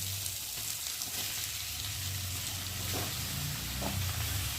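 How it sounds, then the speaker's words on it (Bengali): Gourd pieces cooking in a masala sizzle in a pan with a steady, faint hiss, broken by a few light stirring scrapes. Nobody talks. "এই অল্প করে দিয়ে একটু নেড়ে দিই"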